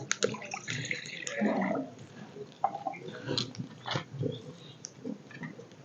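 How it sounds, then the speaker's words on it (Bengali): Water splashes briefly as a little is poured into a wok on a lit stove while making palak paneer, heard up close alongside soft kitchen clatter. "কড়াইতে দিয়ে দিব অল্প জল"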